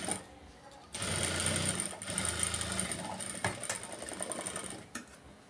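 Sewing machine stitching a two-in-one blouse, its needle chattering in a fast, even rhythm close by, broken by a few short pauses, with a voice speaking softly in the background.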